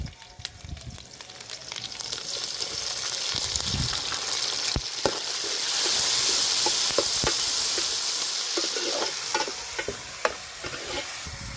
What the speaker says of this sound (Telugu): కరివేపాకు అట్లే టమాటా పండ్లు కూడా వేసుకుందామండి.